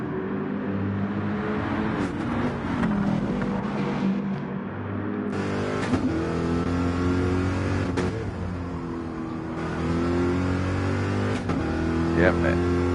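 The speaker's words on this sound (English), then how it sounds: "Although Brian does have the penalty, but they're so clearly much faster on those slick tyres in the Mercedes." GT4 racing cars on the Nordschleife, engines revving and accelerating continuously with rising and falling pitch through gear changes, loud and close, with speech running over the engine noise.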